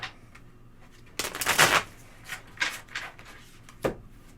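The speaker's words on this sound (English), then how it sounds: "I'm just going to give them one last shuffle" Tarot cards riffled in a final shuffle, a loud papery burst of rapid flutters followed by several shorter, softer rustles and taps close by, with no talking.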